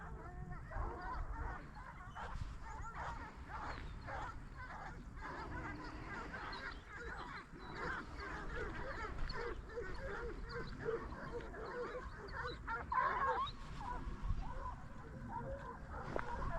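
Hunting dogs barking during a driven hunt, scattered yips and barks at a distance over steady outdoor background noise, with some voices mixed in.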